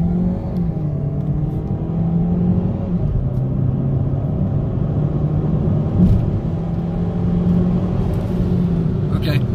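Steady engine rumble and road noise inside a Chevy Cruze hatchback as it accelerates up to highway speed, a continuous, even drone with rising tyre hum and no voices.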